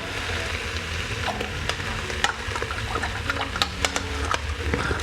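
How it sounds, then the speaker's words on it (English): Vegan curry with tinned tomatoes and coconut milk sizzling in a pan on medium heat, a soft steady bubbling fry with occasional clicks and scrapes of stirring. "Add in your tinned tomatoes and keep this on a medium heat still and just give it a stir"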